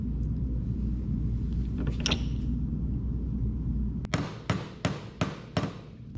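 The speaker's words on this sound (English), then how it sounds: "You just smack it with a hammer" After a stretch of low rumbling background, a hammer strikes a metal exhaust pipe on a 1930 Ford Model A about six times in quick, fairly loud blows.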